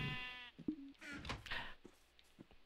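Sheep in the video game Minecraft give a clear bleat, followed by a second shorter one, fairly faint and close, with some soft clicks and a voice murmuring briefly.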